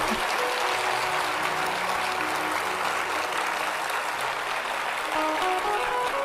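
Audience clapping steadily through a devotional katha talk, a dense continuous wash of hands that stays level for several seconds, with faint voices or music murmuring underneath.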